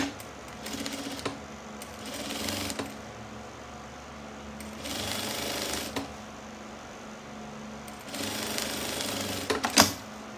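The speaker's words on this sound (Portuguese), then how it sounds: "Também vou fazer a mesma costura aqui" Home sewing machine stitching the lining seam of a fabric crossbody bag, running in several bursts of steady mechanical whirring with brief pauses between them, close and moderately loud.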